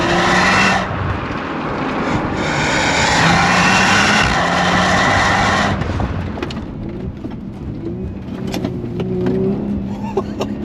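Tuned Audi RS5 ABT 530 hp accelerates hard with a loud, roaring engine climbing through the gears, then the note drops and settles into a quieter cruise with faint ticks and pops, close inside the cabin.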